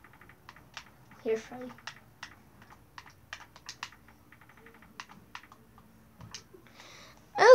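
Quick clicking keystrokes on a computer keyboard as a short name is typed, in small bursts with pauses, close and moderately quiet, while a person talks over them.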